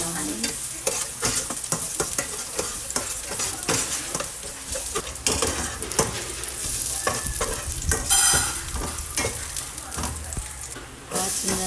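Garlic fries in cooking oil in a pan, a loud, close, continuous sizzle broken by repeated scraping stirs of a utensil, with a brief hiss flaring up partway through.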